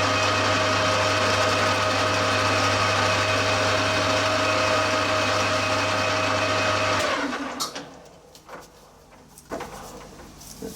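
A lathe or mill cuts a chamfer on a cast sandblast gun part, giving a loud steady machining whine with a strong low hum for about seven seconds before the cut stops and only faint clatter and handling noises remain.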